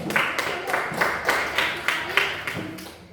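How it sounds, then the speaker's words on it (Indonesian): A group of teachers at an elementary-school coding training in Gumay Ulu claps hands in a patterned rhythm of about seven crisp, evenly spaced claps heard up close. "Ya, tepuk tangan dulu."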